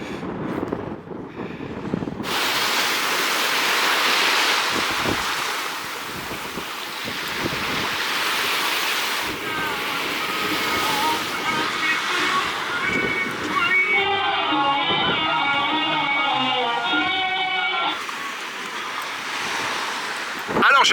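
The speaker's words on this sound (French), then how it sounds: "il y a beaucoup de vent" Strong wind buffets the microphone on Daralouche beach in Kelibia, Tunisia, while waves surge and wash in the background. Gusts rise and fall, and near the end a brief tonal sound cuts in above the roar.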